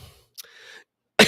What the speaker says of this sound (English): and then I coughed